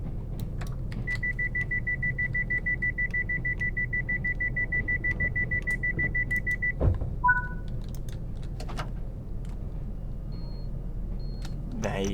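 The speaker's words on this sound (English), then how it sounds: "There you go, you get the buzzer." Door buzzer on a Class 170 Turbostar train in a train simulator, a long steady electronic buzz lasting about six seconds, followed by two short tones over low engine rumble.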